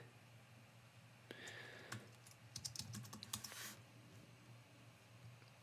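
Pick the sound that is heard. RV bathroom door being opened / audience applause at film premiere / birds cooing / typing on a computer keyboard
typing on a computer keyboard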